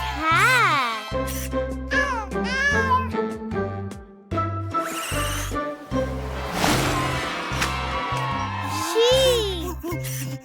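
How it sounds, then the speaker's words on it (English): A cartoon cat meows twice in high, sliding calls over cheerful children's music. A voice speaks in between. "Cat!"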